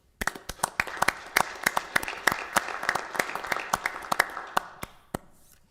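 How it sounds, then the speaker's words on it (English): Applause from a few commissioners and attendees in a small city commission meeting room: sparse, distinct individual claps in an uneven rhythm, close and fairly quiet, tapering off near the end. "I think myself and the commissioners would like to do a round of applause"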